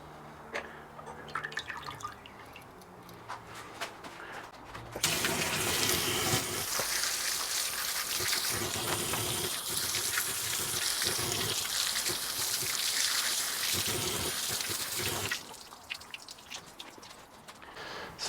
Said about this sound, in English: I will rinse it under running water